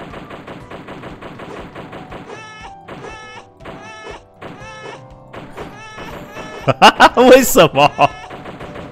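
Rapid gunfire bursts from a shooting video game crackle loudly near the end, following a stretch of repetitive game music and tones.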